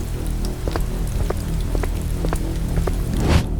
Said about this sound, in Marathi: हलकासा पाऊस चालू होता